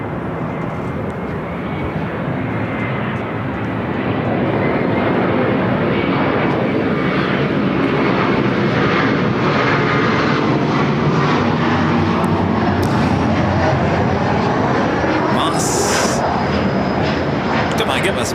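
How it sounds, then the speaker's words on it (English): A Gulfstream G450 jet at LAX gives a loud, continuous roar that swells and holds steady nearby, with a voice talking faintly under it. "It's a Gulfstream G450, number 2 for Revel here on the north side."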